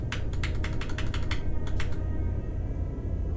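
Quick, light key presses on a computer keyboard tap out a fast run of clicks during play of No Man's Sky, over a steady low hum of game ambience.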